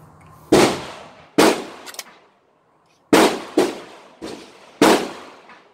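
A Stribog SP9A1 9mm firing on an outdoor range in Conroe, Texas: about seven sharp, loud single shots spaced irregularly with a pause in the middle, each followed by a short decaying echo.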